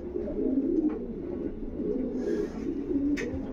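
Show pigeons being readied for an exhibition coo in a steady low rolling murmur, several birds overlapping continuously at close range with no talking.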